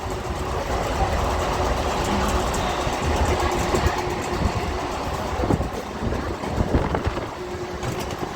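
An EMU or MEMU passenger train runs along the rails in rural India, a steady rumbling roll with faint rhythmic clatter, heard from on or near the train throughout.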